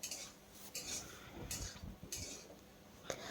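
Fried cabbage tossed with salt in a pan gives a series of quiet scraping and clinking strokes of a utensil against metal, irregular and faint, with soft rustling between them.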